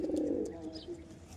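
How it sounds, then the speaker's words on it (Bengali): A pigeon coos in a cage, one low, throaty rolling call up close that fades out, with faint chirps and bird noise behind it. "পায়রা কথা বলবে"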